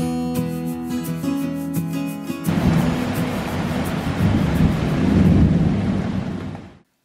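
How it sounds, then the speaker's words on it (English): A massive nighttime thunderstorm rumbles with heavy rain, a loud, steady wash of downpour and deep rolling thunder that swells and fades after a faint tonal hum at the start. "There is a massive thunderstorm going on right now."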